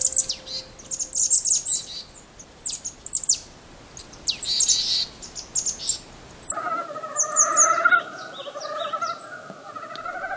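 Small birds chirp and tweet in short, scattered bursts in a Korean pine forest valley in winter, bright calls coming and going at moderate distance, with a denser run of calls near the end.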